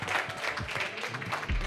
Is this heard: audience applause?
yes